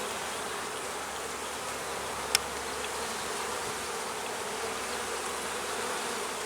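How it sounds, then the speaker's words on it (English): A dense, steady hum of many honey bees buzzing together in a hive box during an inspection, close and continuous, with a brief click partway through. "There's a lot of bees in this box."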